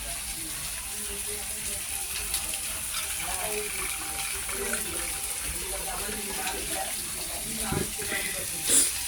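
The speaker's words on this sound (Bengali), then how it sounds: "এবার আমি পরিমাণ মতো জল ঢেলে দেবো।" Water pours into a cooking pot for soybean curry in a home kitchen as a soft, continuous splashing gush, fairly quiet and steady, ending with a brief clink.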